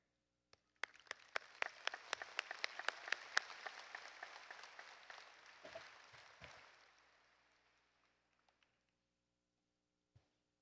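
Audience applause welcoming a keynote speaker at a spring commencement ceremony, starting with a few sharp claps, swelling into steady clapping from a crowd, then thinning out and fading to silence.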